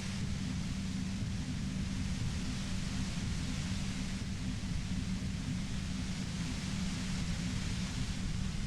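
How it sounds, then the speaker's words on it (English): Steady white-noise static from the video game Disco Elysium, a constant, fairly soft hiss layered over a low rumble that never changes for the whole stretch, with no voices. "You hear through the white noise. It's especially bad suddenly."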